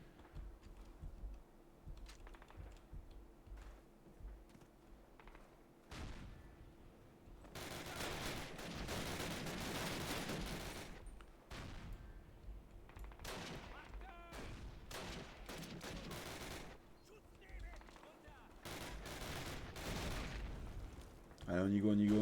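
Gunfire from a weapon in the 2003 Call of Duty game, with dense bursts of rapid shots over a foggy battlefield ambience and short pauses between bursts, ending in a louder blast.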